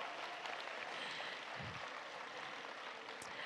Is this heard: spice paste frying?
no